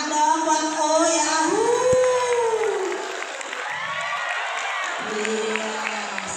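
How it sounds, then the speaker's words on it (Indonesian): Audience applause and cheering at a talk, with crowd noise and shouts mixed in, while a voice speaks over it through a microphone before the clapping thins out. "tepuk tangan dong buat O ya."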